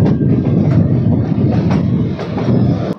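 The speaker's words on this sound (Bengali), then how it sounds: "দক্ষিণেশ্বরে এখন আসলো আমাদের ট্রেন" A passenger train pulling into Dakshineswar station rumbles loudly and close by, with rhythmic clickety-clack of wheels over rail joints that continues steadily before cutting off sharply at the end.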